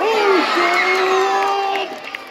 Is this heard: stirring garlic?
no